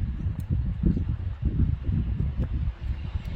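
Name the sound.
wind blowing in a snowstorm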